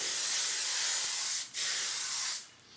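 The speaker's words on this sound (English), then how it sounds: "So okay, hairspray time." Hairspray from an aerosol can hisses in two long bursts, the first running steadily for about a second and a half, a brief pause, then a second burst that cuts off before a quieter tail; close and loud, no talking.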